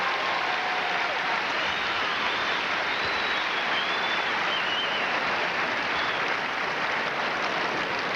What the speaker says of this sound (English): let's give another great Atlanta applause for such a great moment